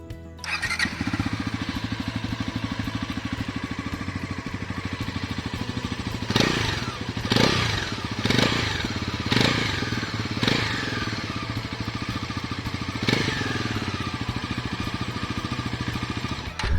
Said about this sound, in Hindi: और एक बार आपको एग्जॉस्ट नोट भी सुना देता हूँ।